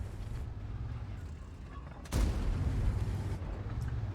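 A tank cannon fires in a tank video game, one loud booming shot midway that rolls into a sustained rumble over steady engine drone.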